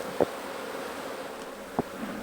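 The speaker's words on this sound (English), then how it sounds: "you're going to make any bee mad because you're smashing some as the frames drop back" Angry honey bees buzzing during a hive inspection, a continuous close swarm drone with a few sharp bursts as individual bees fly past near the microphone.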